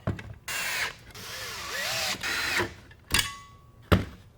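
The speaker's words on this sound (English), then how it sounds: "load that in our screw gun" A screw gun drives screws into a wooden planter box, whining in a long motor run with rising and falling pitch, then two brief sharp bursts close by, with no talking.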